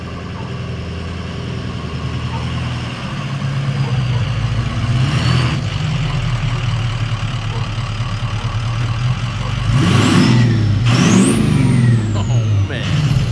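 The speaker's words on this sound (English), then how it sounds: "one of the most souped up 6-liter Fords that I've seen. Taking it pretty easy up the driveway." A heavily modified 6-liter Ford truck rolls slowly up a driveway, its engine rumbling steadily at low revs, with louder swells of revving near the end, mixed with ambient noise and some talking.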